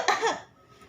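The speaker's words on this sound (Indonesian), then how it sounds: "biasanya kalau kita batuk atau bersin pasti seperti ini" One short, sharp cough, close to the listener, demonstrating how people typically cough, followed by quiet.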